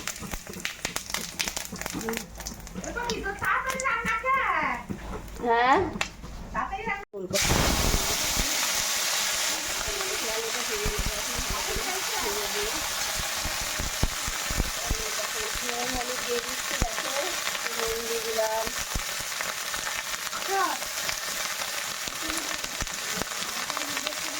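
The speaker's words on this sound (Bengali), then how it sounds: "তেলের মধ্যে আমি জিরা তেজপাতা শুকনো লঙ্কা ফোড়ন দিয়ে দিলাম" Cumin seeds, bay leaf and dried red chillies hit hot oil, bursting into a loud, steady crackling sizzle after a voice speaks briefly at the start.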